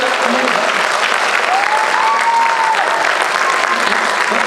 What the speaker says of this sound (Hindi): यार, जोरदार ताली बजाओ यार